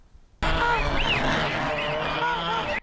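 Geese honking loudly and continuously on a farm in the Sura district, several birds calling over one another close by, with a news narrator talking over the birds.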